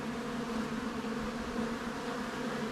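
Honeybees in a large, populous hive humming during an inspection, a dense, steady close buzz with no talk.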